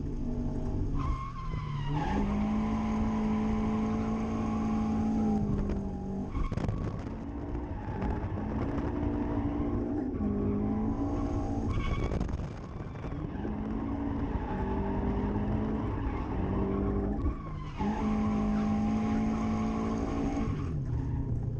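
A Scion FR-S drifting on mountain roads, its engine roaring loudly and tires squealing in long, sustained screeches that break off briefly and resume, with no talking.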